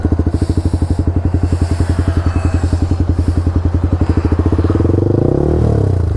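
A Yamaha R15 motorcycle engine idles close by with a rapid, even thumping pulse, the exhaust note steady and loud before it swells briefly as the throttle is blipped near the end.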